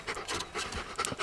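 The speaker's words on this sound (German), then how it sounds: "Die Hunde hecheln, aber das Hecheln kommt auch von der Ermüdung." Two dogs pant after an agility course at a dog school, quick rhythmic breathy puffs in short bursts, close and moderately loud with no talk over them.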